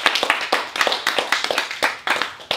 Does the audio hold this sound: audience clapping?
yes